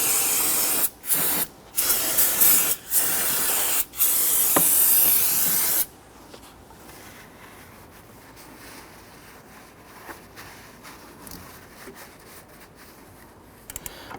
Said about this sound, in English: spray this down with some solvent to get rid of any of that brake fluid that's been dribbling out of there